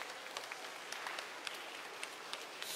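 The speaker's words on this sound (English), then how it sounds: "Just give them another round of applause." A congregation claps in soft, scattered applause for the readers at a student Mass, a faint, even patter with a few sharper individual claps, heard from a distance in a large church.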